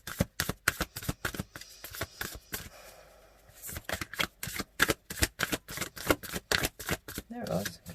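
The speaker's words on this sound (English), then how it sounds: "these decks, when they stick together, it makes it really difficult to shuffle quickly" A tarot card deck is riffle-shuffled in rapid bursts of crisp, close, loud card flutters, with a short pause before the shuffling resumes and a voice briefly talking near the end.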